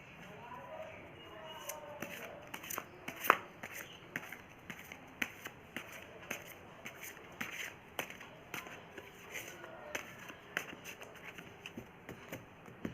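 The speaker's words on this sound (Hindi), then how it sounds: "मैं 2 टाइम कार्ड को और शफल करूँगी।" Tarot cards are shuffled by hand in a quiet room, with a run of soft, irregular flicks and riffles spread over several seconds, some sharper snaps standing out, faint and close.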